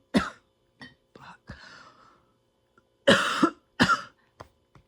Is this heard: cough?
yes